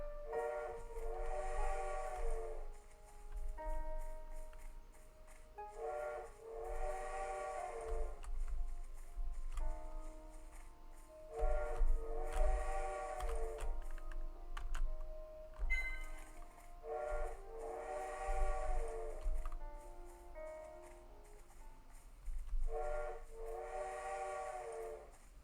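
A chirpy electronic whistle from a video game bird repeats in regular bursts, mimicking a train whistle, with a soft ticking pulse underneath and no talking.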